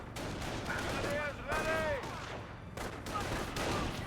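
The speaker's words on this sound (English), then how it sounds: "So got a bit of a long range engagement here. Not all the guys are firing" Infantry rifle and machine-gun fire crackles steadily across a long-range engagement in the Company of Heroes video game, dense overlapping shots amid battle noise and game voices.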